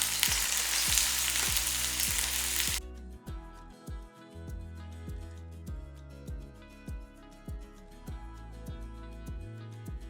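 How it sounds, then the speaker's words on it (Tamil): Onions sautéing in hot oil in a pan for an eggplant pickle, a loud steady sizzle for about three seconds that drops to a quieter crackle under background music with rhythmic low beats. "இந்த வெங்காயம் வதக்குறோம் இல்லையா இந்த எண்ணெயெல்லாம் அப்படியே வடிச்சிட்டு இந்த வெங்காயத்தை மட்டும் எடுத்து நம்ம போட்டுக்கலாம்"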